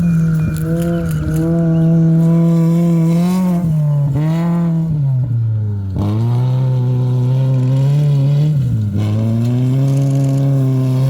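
A rally car on an SCCA RallyX course, its engine note rising and falling through shifts and revs with some gravel scraping, loud and continuous throughout.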